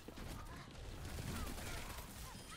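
Overwatch gunfire during a collegiate esports match plays as a continuous, dense stream of shots, loud and close throughout.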